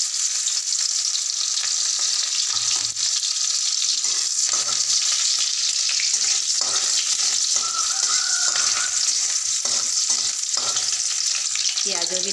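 Onions fry and get stirred in a pan until reddish brown, giving a continuous close sizzle with scraping, stirring knocks throughout and no voices.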